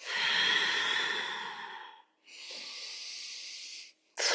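Two long, forceful breaths are pushed out during a core exercise, the first a loud airy exhale of about two seconds and the second a slightly softer one, close up with no talking.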